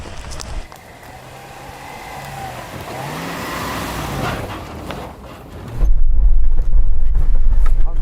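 A Toyota Land Cruiser engine idles and pulls low and steady while the vehicle creeps backward slowly over off-road ground. The rumble grows heavier and louder near the end, with no talk over it.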